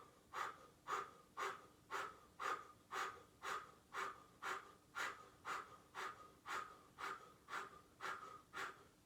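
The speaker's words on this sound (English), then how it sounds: "then you're going to do that special breathing. Ready? Breath of fire." During a yoga class, breath of fire is done as about eighteen quick, forceful nasal breaths in a steady even rhythm, close and clear with no talk.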